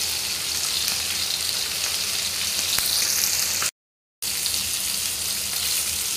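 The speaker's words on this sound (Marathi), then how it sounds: "मंद आचेवर व्यवस्थित भाजून घ्यायचे आहेत।" Bangda (Indian mackerel) fries in a pan over a low flame in a home kitchen, giving off a steady, dense sizzle that cuts out completely for a moment before continuing.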